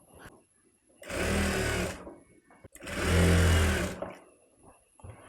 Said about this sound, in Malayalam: ഇതുപോലെ ഒന്ന് ഫുള്ളായിട്ടൊന്ന് സ്റ്റിച്ച് ചെയ്തെടുക്കുക കേട്ടോ